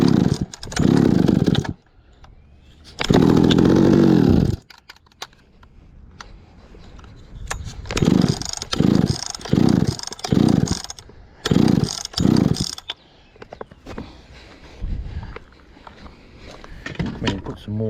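Old chainsaws being pulled over and started, with loud bursts of two-stroke engine running, cutting out, and restarting in choppy repeated pulses; a voice talks in the quieter gaps.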